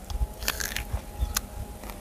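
Someone bites into a ripe, red star fruit, giving several short, close crunchy bites and chews with no voices.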